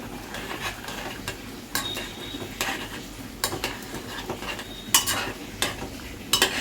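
A chicken stew with a little butter added simmers in a pot, with a low bubbling sizzle beneath repeated scraping stirs and metallic clinks of the spoon.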